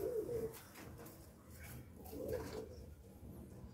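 A desi pigeon coos twice in soft, low, throaty phrases, close by, over a faint background rumble.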